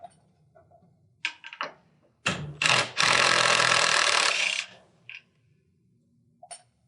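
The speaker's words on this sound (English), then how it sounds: "now I will remove the lag screws that secure the bracket to the header." A power driver whirs in short bursts, then in one long loud run, backing lag screws out of a garage door torsion spring bracket fastened to the wooden header, with quiet gaps between runs.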